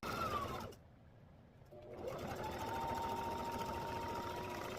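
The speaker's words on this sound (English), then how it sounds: "Now I'm going to stitch this" Sewing machine stitching fabric for a ruler organizer: a steady mechanical whir that pauses for about a second, then resumes and runs evenly, close by with no talk.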